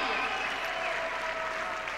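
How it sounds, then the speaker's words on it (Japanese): A large crowd at the 1998 Nagano Olympics figure skating short program applauds and cheers continuously, a dense steady roar of clapping and voices filling the arena. "わーわーという歓声が聞こえています。"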